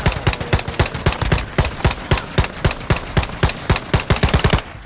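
Rapid automatic gunfire in Call of Duty on the Shipment map, loud sustained bursts of closely spaced shots with brief gaps, no talking.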